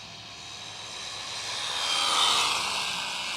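A Rlaarlo AK 917 brushless carbon-fiber RC car runs at wide open throttle, its high-pitched electric whine swelling as it passes close, then easing slightly as it pulls away.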